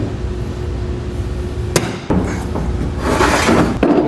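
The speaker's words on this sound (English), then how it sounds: "now we're ready to center punch our holes for this rail" A hammer strikes a center punch on a truck bed rail on a 2014 Chevrolet pickup, giving two sharp metallic hits, loud and close, followed by shuffling workshop noise.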